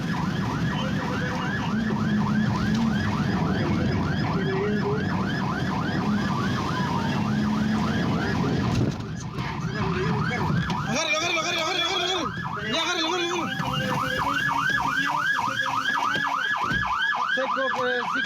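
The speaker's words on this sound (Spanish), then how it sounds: "Revisemos parte de ese ambiente que se vivió durante la jornada de ayer de esta persecución policial." Police car sirens wail continuously during a police chase in Chile, loud and close, with a shifting pattern of repeating siren cycles and a second siren tone joining partway through over road traffic noise.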